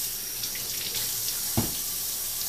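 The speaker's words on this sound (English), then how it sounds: "one of the very first things that I do is rinse off the chicken wings" A kitchen tap runs steadily into a sink while raw chicken wings are rinsed for matzo ball soup, a close, continuous hiss of flowing water with a brief splashy burst partway through.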